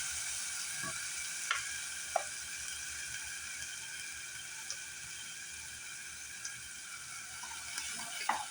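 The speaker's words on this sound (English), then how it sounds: "I'm going to take my sofrito and fry it up" Sofrito fries in a pan after bacon has been rendered, giving a soft, steady sizzle with scattered small pops and clicks from the utensil and no talking.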